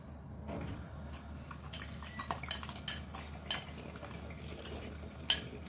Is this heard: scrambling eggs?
yes